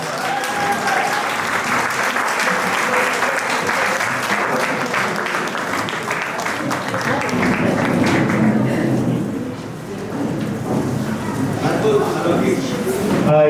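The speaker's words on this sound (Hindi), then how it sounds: "एक बार जोरदार तालियां हो जाए" Sustained applause from an audience after a theatre play, the play 'Jalan Se Jaltarang', a dense steady clatter of clapping filling the room for the whole stretch, easing briefly before swelling again.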